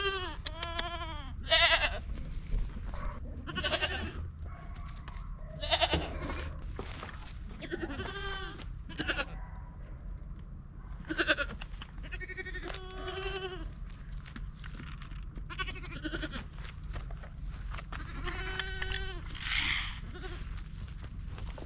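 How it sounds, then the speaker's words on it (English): Goats on an off-grid homestead, one loose in the yard, bleat repeatedly and loudly nearby, with drawn-out wavering cries at irregular intervals over a low outdoor background rumble. "one of the goats were out in the yard"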